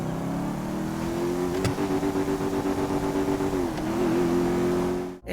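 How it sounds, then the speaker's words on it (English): Car engine in GTA V revving hard like a burnout, a steady loud roar with a held pitch that dips briefly near the end before cutting off. "If you did everything correctly, you will hear an increased engine noise similar to a burnout"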